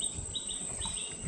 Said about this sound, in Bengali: পাখি ডাকছে